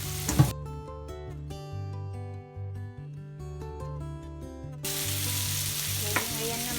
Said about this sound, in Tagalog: ilagay ko na ngayon yung ating red onions